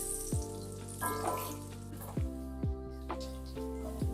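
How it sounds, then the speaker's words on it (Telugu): Chicken frying in hot oil for a homemade pickle, a steady crackling sizzle broken by repeated metallic scrapes and knocks of a ladle stirring the pan at a loose, uneven rhythm. "అంత నీట్గా వేగాలి కదా, మంచి బ్రౌనిష్ రెడ్ కలర్లో వచ్చే వరకు వేపుకోవాలి"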